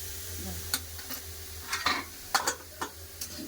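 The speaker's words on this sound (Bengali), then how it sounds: "ভালো করে কষে নেব ভালো করে পেঁপে কষে নিয়েছি" Papaya stir-fried in a pan for chutney, with scraping spatula strokes over a soft steady sizzle, the stirring coming in quick irregular bursts close to the microphone.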